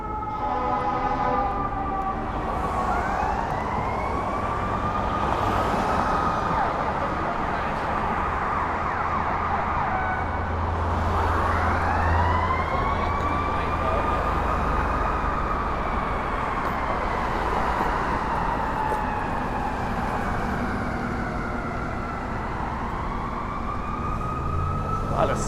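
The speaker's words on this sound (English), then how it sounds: "A lot of sirens going on." Emergency vehicle sirens wail through downtown Toronto near University Avenue, with a fire truck ahead; several overlapping rising and falling siren sweeps run continuously and loudly over a low traffic rumble for the whole stretch.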